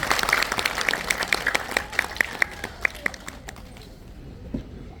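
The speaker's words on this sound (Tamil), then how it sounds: "மீண்டும் அவருக்கு ஒரு பலத்தை கைத்தட்டல்" An audience at a May Day poetry celebration applauds a young singer, a burst of sharp overlapping hand claps that thins into scattered individual claps and fades out toward the end.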